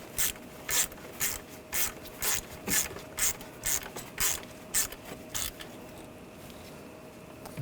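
A ratchet clicks in quick repeated bursts while tightening a turbocharger bolt on a Volkswagen Tiguan, roughly a dozen close, even strokes before stopping.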